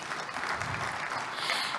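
Audience applause for Malawi's Minister of Industry and Trade at a food systems leadership forum, steady clapping filling the hall without a break.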